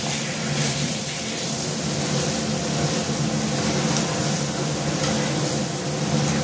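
Ginger, garlic and onion paste sizzles in a pan with a splash of water, a dense, steady hiss and crackle heard up close, broken by faint stirring scrapes, with nobody speaking.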